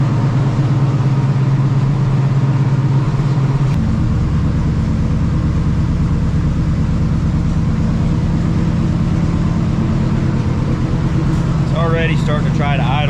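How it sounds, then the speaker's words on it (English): A car engine idles loudly and steadily right after starting, a close, continuous rumbling drone that shifts lower in pitch a few seconds in, with a voice briefly heard near the end. "Already starting to try to idle lower than it did last night."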